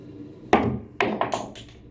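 Pool cue striking a ball on a table for an awkward shot, a crisp hard knock followed by a second clack and a few lighter ball-on-ball taps, close and clear with no voices.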